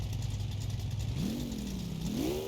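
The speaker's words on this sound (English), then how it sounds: "Let's give it a couple revs." A tow truck engine runs close and loud, its idle climbing into a rev, easing slightly, then rising again in a second rev.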